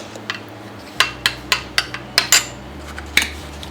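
A utensil knocks against a bowl while mixing pizza sauce made with garlic, ginger, tomato and oregano, giving about a dozen sharp, close clinks in a brisk, uneven run.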